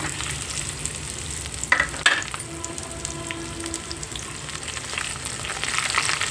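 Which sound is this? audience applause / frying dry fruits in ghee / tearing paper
frying dry fruits in ghee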